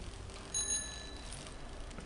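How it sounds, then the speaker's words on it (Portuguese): A bicycle bell in the video game Season rings once, with a bright metallic ding that fades over a steady low background hum, no talking. "Tocando sininho."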